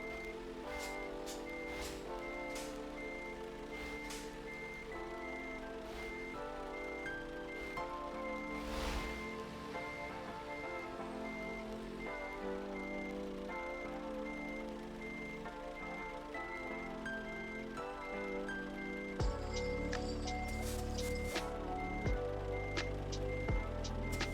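Reversing beeps from a truck in the Euro Truck Simulator game, a steady repeating electronic beep over a low engine hum, with the engine tone rising near the end.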